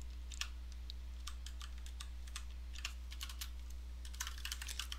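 Steady typing on a computer keyboard while writing a Debian package changelog, with quick irregular key clicks over a low constant hum, nearby and moderately loud, no speech.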